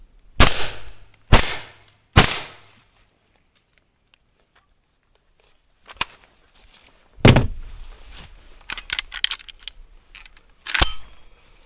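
Three suppressed AK-74K rifle shots fire in darkness, sharp separate bangs about a second apart, followed by quieter clicks, thuds and handling noises.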